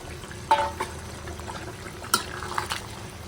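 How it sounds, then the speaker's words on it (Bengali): A little water is splashed into a pan of frying bottle gourd in a couple of short pours, each a brief hissing splash over a low background sizzle, close by. "আর সামান্য একটু পানি দিয়ে দেবো একসাথে"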